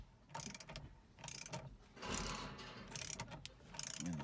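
A bolt is turned and tightened on a carbon fiber steering wheel in a Tesla Model S or X, producing quiet, irregular ratcheting clicks and mechanical turning sounds in short bursts, close up, with no speech.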